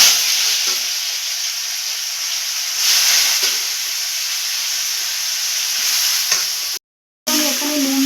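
Snake gourd frying in hot oil with mustard seeds, a steady bright sizzle that runs continuously, broken by one brief dropout near the end, with no voices.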